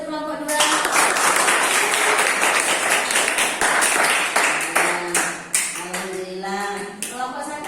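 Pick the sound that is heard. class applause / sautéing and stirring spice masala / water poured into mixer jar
class applause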